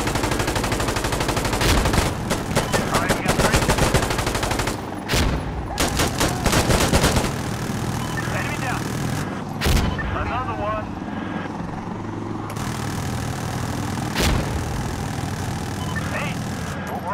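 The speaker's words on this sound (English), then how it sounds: "Firing now. Taking fire." Sustained gunfire in the Insurgency Sandstorm shooter game, dense bursts of automatic rifle fire and single shots with a helicopter droning overhead, loud and continuous, with voices calling out over the battle.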